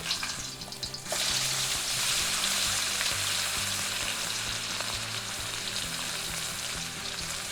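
A thin beef steak sears loudly in a hot frying pan, a dense, continuous sizzle and crackle of fat close by, with no talking.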